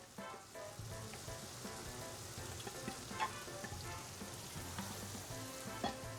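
Holy Trinity vegetables (onion, celery, bell pepper) sizzle and crackle steadily in melted butter in a pan for a Cajun shrimp pasta, with a few louder pops, close and continuous with no talking.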